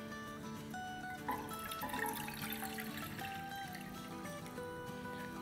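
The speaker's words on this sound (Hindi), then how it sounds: "इसमें हम डालेंगे 2 कप पानी" Two cups of water trickle and splash into a small pot on a stove, a soft continuous pour close by over a faint tonal background.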